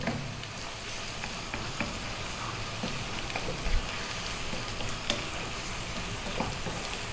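Ground chili powder, cumin, coriander and turmeric fry in a pan above medium heat while being tossed, making a dense, even crackling sizzle with scattered faint knocks throughout.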